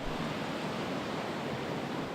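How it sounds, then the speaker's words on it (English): Water pouring in to flood a dry dock before a ship enters, a dense, steady rushing roar like surf or a waterfall, continuous and loud with no breaks. "The obvious first step to getting a ship into the dry dock is flooding the dock"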